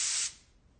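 A spray tan booth releases a fine mist as a short, loud hiss that cuts off after a fraction of a second and leaves a faint tail.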